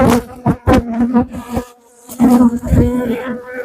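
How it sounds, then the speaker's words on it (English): Honeybees hum and drone close by in an uneven, pulsing swarm around an opened hive, the buzzing rising and dipping with brief quieter gaps. "so the bees are going to be flying around like crazy"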